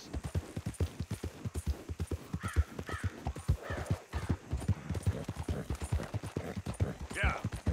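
Horse hooves galloping in Red Dead Redemption 2, a steady rhythmic clip-clop up close with occasional whinnies and snorts, and a voice speaking briefly over it.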